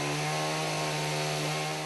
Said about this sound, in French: Même la finition et le polissage se fait à la scie mécanique.